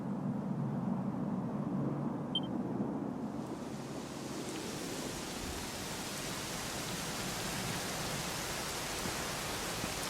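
Steady rain falling in the video game Dragon Quest XI, an even broad hiss that continues unbroken for ten seconds, soft and without any voices.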